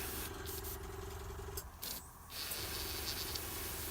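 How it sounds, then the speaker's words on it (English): An airbrush sprays candy orange paint onto a miniature: steady hissing spray with brief pauses, a continuous airy whoosh that stops for a moment and then resumes, close and fairly quiet. "I'm spraying a candy orange filter over the top of the red."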